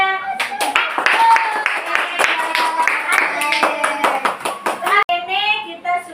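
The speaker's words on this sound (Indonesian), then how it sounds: "Berikan tepuk tangan untuk kelompok 3." Classmates in a religious education classroom clap for a student group, a lively burst of hand claps mixed with children's voices and chatter, ending with talk.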